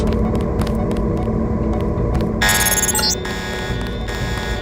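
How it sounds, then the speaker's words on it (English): Steady electronic alarm in the video game Deus Ex, a loud, continuous pulsing tone that shifts into a brighter, harsher buzz partway through, with no voices over it. "The alarm just closed the north door."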